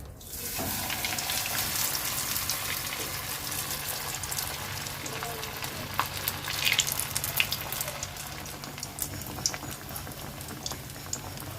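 Veg cutlets frying in hot oil, a continuous loud bubbling hiss with occasional sharper pops and crackles, steady and close throughout.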